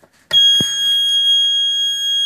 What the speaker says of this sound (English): TENS machine on.